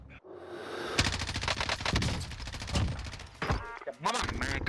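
M4 assault rifle in Call of Duty Warzone fires dense, rapid automatic bursts that start after a brief pause and continue almost without letup, loud and close, with short gaps between bursts.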